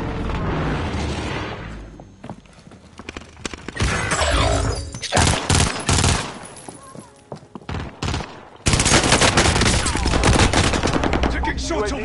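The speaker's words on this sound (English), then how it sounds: "Taking shots over here." Rapid automatic gunfire in a shooter video game, loud dense bursts and sustained volleys with brief gaps, close and harsh, with a voice briefly talking amid the shots.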